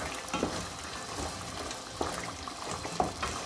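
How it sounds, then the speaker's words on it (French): Lamb sauté with sorrel simmering in a pot gives a soft, steady bubbling and faint sizzle, with occasional small pops and clinks, quiet and close throughout. "3 beaux quarts d'heure que ça mijote"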